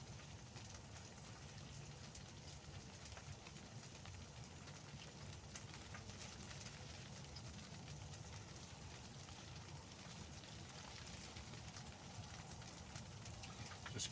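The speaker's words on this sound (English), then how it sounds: "It's raining. I'm sure you can hear it, and there's a bit of wind blowing." Steady rain with a little wind, a constant broadband patter and hiss that stays even throughout, faint and distant with no talking.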